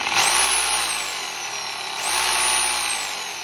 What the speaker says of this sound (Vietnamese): Khi mà anh em chỉnh vào cái chế độ này nè, xoay mũi đục dẹp thì nó sẽ xoay từ từ.